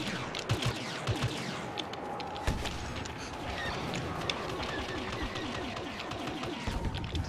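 Sustained gunfire in the Star Wars Battlefront video game, a dense continuous rattle of rapid shots with occasional louder bursts, steady throughout.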